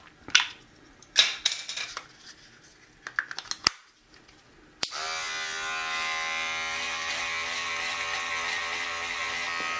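An electric beard trimmer fitted with a precision head buzzes loudly and steadily for several seconds after a few brief clicks and handling sounds, trimming a dry beard.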